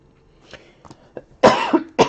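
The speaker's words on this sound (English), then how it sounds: "A little lingering cough there." A few small throaty coughs, then two louder harsh hacking coughs close to the listener, with short quiet gaps between them.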